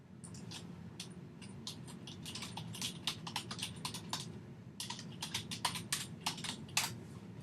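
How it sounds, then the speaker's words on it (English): Steady, rapid clicking from someone typing on a computer keyboard, close and continuous with small pauses between bursts and no voices. "I'll start typing up some math for you guys"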